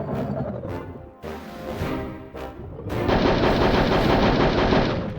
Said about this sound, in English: That's all of their machine guns.